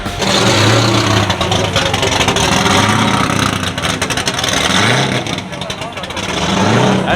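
Formula Drift car engine idling loudly in the pits, a deep steady rumble with uneven throbbing pulses and some crowd noise around it.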